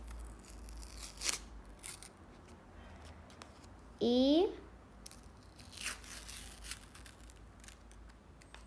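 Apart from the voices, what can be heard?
paper packet being torn open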